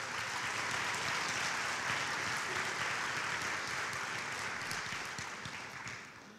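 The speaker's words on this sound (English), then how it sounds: "so I want to give them a big round of applause" An audience at an awards show fills the room with a dense, sustained round of applause that holds steady and then tapers off toward the end. No one speaks over it.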